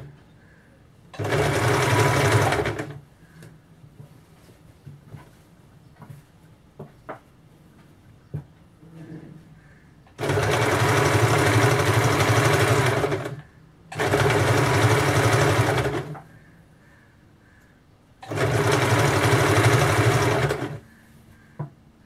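A sewing machine stitches blouse fabric in four steady bursts of a few seconds each, loud and close, separated by quiet pauses.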